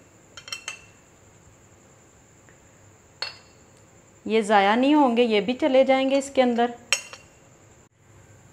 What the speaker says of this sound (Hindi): इसको अच्छे से चम्मच की मदद से सारे इकट्ठे कर लेंगे